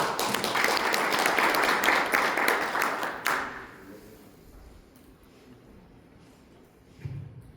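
Audience applause at a maritime union conference spring forum in Tongyeong, dense clapping for about three seconds that cuts off abruptly into a quiet room with faint shuffling.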